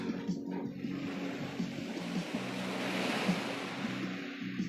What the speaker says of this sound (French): d'entendre le bruit des vagues